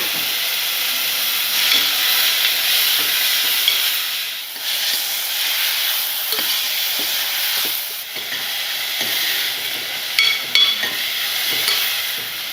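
Chopped tomato is stirred into a frying mixture in a pan, producing a steady hiss and sizzle with soft scraping stir strokes and a few brief clinks, close and moderately loud.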